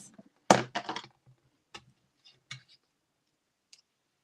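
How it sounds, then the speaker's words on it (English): Paper strips for a stamped card are trimmed to size on a paper trimmer, giving a few sharp, close, dry snaps and clicks in quick succession, then sparse softer ticks in an otherwise quiet room. "we're just gonna trim these to size"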